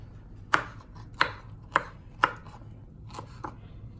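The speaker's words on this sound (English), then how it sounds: "get some more of your pineapples, cut little cubes" A knife chopping pineapple into small cubes on a cutting board, six or seven sharp, crisp chops spaced about half a second apart, close and clear with no talk.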